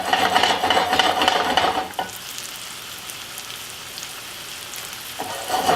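Food sears in a hot pan during sautéing and caramelizing, giving a loud, close crackling sizzle that drops away abruptly partway through, leaves a quieter hiss, then swells again near the end.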